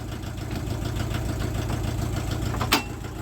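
A VW T3 van engine idles steadily in a workshop during a clutch test, a constant low rumble with one brief sharp knock near the end.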